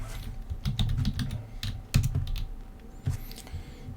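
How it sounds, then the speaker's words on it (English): Rapid typing on a computer keyboard on a Linux machine, a dense run of close, crisp key clicks with short pauses and a few heavier strikes, no voices. "so you can see what I'm typing"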